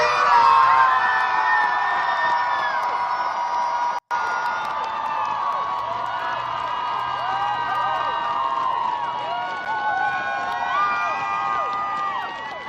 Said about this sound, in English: Denver Pride crowd reaction to Maylot Kuros could be heard from miles away